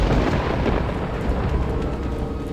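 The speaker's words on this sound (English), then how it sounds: "There's some thunder." Low, steady rumble of thunder rolling in the distance, a broad continuous roar without sharp cracks, heard alone with no talking.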